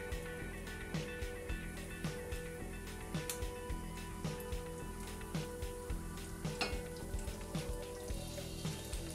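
Slices of cheese sizzle in hot oil in a frying pan, a steady soft crackle with repeated small spits and pops, fairly quiet and close, with no voices.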